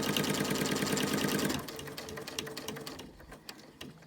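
A sewing machine stitches binding onto a quilt, with a loud, steady mechanical whir from up close for about a second and a half, then slower individual stitches that taper off into quiet handling.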